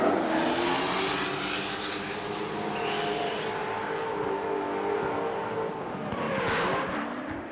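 Race cars in a drift battle on the Transrarau mountain road sweep past at speed, a loud, continuous roar of engines and tire noise with rising whines as the pair goes by close.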